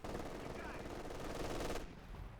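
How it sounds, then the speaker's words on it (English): An MG42 machine gun fires at conscripts in Company of Heroes 2, a dense rattling burst that runs loud and steady for nearly two seconds, then cuts off, with game battle noise underneath. "MG42 hitting the conscripts."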